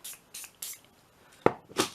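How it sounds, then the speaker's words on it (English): Water spritzed from a handheld spray bottle onto a painting of a window frame, several short hissing bursts, three quick ones then two more after a pause, close and fairly loud with no talking. "spray it with a little bit of water"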